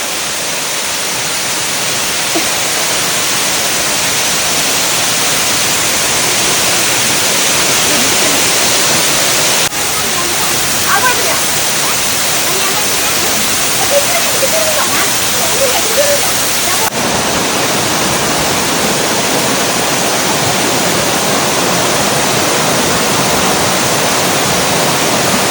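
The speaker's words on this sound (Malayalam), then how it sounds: "നമ്മളത് ഈ ഇറങ്ങി ചെല്ലണത് വെള്ളച്ചാട്ടത്തിലേക്കാണ്." A waterfall on the Choorathala trek in Palakkad roars as a loud, unbroken broadband rush close to the listener, steady for the whole stretch with only faint hints of movement and no clear talk.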